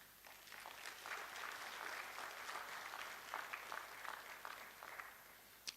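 Audience applause at a physicians' annual general and scientific meeting in Ghana, a steady, fairly light patter of clapping from a moderate crowd that carries on evenly with no talk over it.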